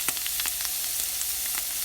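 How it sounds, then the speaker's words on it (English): Mushrooms sautéing in a pan, with bacon frying nearby for an omelette, give a steady close sizzle with scattered small pops throughout. "The mushrooms are sauteing."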